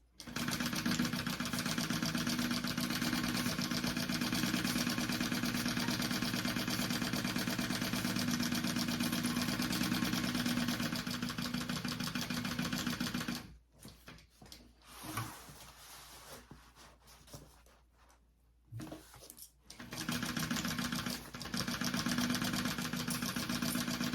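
A sewing machine stitching up the sides of a tote bag, a loud, steady mechanical whir that drops out for a few seconds mid-seam and then resumes.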